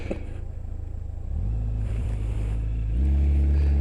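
Heavy traffic rumbles along a busy road, with engine and tyre noise building as vehicles close in and swelling to a loud, steady roar toward the end, with no voices over it.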